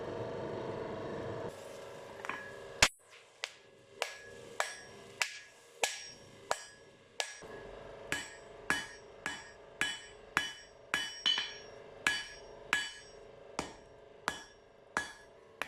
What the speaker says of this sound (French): je prépare la soudure et je soude très chaud